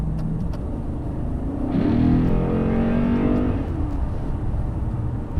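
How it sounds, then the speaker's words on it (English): A powerful Lexus IS-F 5-litre V8 engine revs up and pulls hard, rising in pitch as it accelerates, loud and sustained over steady road noise. "There's nothing like a 5-litre V8"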